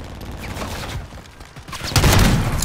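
Dense gunfire in a Call of Duty video game crackles in a rapid fusillade of shots, loud and continuous, swelling into heavier bursts toward the end.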